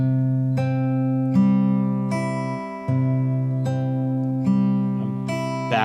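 Clean guitar fingerpicked in a thumb, second, first and third finger pattern, with a steady bass note under plucked upper strings repeating evenly as bright, ringing chords.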